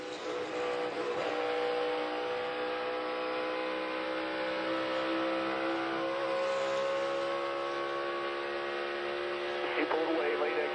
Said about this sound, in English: I want you to listen to these guys and how they're pedaling, driving these cars to the throttle around this racetrack.